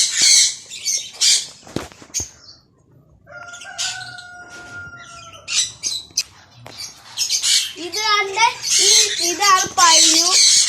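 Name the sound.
birds squawking at a bird farm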